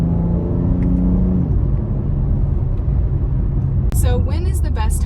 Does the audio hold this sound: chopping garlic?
no